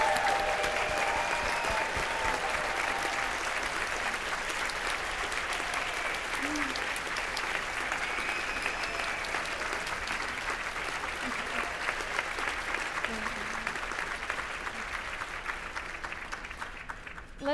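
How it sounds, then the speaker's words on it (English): Long, steady applause from a crowd at a school's 20th anniversary luncheon, sustained and fairly even for the whole stretch, with faint voices mixed into the clapping. "Let's give it up for our current SGS students and alums."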